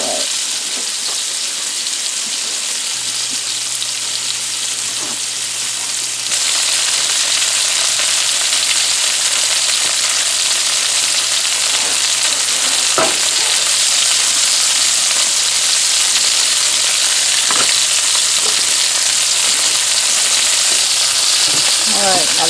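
Butter sizzles in a hot frying pan over a low hum, the crackling jumping louder partway through and staying at a steady, busy fizz with a few faint knocks.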